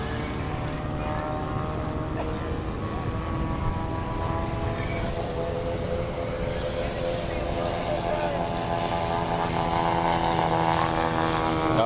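Propeller plane, likely a paramotor, flying at a festival of flight, a steady droning engine hum that swells slightly over time, with outdoor background noise throughout.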